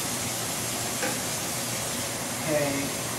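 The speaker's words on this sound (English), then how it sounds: "let this fry away for a while" Taco beef frying in a pan gives a steady, dense sizzle and hiss close by, with faint stirring scrapes partway through.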